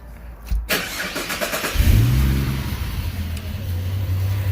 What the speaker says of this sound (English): start the engine and let it idle for 5 to 10 minutes